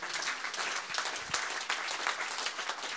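A church congregation at a Christian worship service applauds in sustained, dense clapping, moderately distant and fairly faint, with a steady patter throughout.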